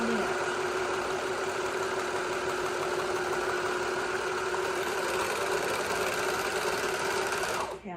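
A sewing machine stitches a shirt hem in one loud, unbroken whir that runs steadily for several seconds before stopping abruptly.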